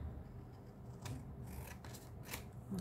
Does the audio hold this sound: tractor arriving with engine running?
no